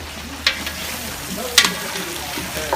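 Onions going into a frying pan already holding thyme and coffee spices, a low sizzle with a few sharp clattering scrapes of stirring, close and without talk.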